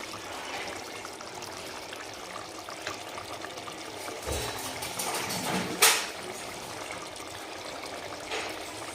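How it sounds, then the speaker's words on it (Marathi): Hot water poured into a pot of mutton curry, a soft trickling pour under a background hiss, with a brief splash and a couple of clinks partway through. "तर हे पाणी गरम झालं आहे आता टाकून घेऊ"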